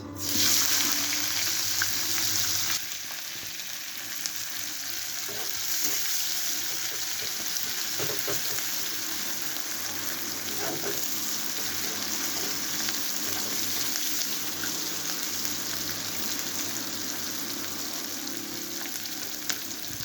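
Nigella seeds, green chillies and onion sizzle steadily in hot oil, a loud continuous frying hiss that flares at the start and settles, with occasional faint stirring clinks and no talking.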